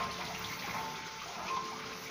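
Water draining out of a large catfish tank, a soft steady gushing and trickling that stays fairly faint and even throughout.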